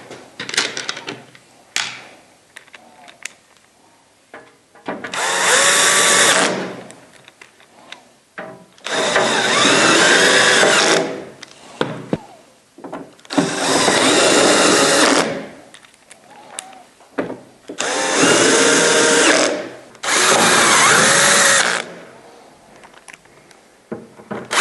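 A power driver sends screws into the top panel of a Santa Fe Advance2 dehumidifier, with five loud whirring bursts of a few seconds each separated by quiet handling clicks.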